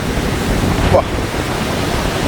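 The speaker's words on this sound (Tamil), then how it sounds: "இங்கே பாருங்கள் பயங்கரமான காற்று இந்த கடல் அலைகளை வந்து பாருங்கள்" Strong coastal wind and rough sea waves surge and crash on the Jaffna shore, a loud, continuous roar with one brief swell in the middle.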